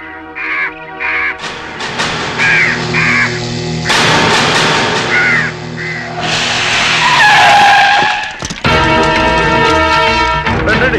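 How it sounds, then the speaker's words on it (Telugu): Crows caw loudly in short repeated calls at the start and in a rapid run near the end, mixed with harsh screeching, skidding-like noises in the middle of a comedy scene. "ఈ ఏరియాలో ఒక్క కాకి కూడా ఉండాలని వీలేదు."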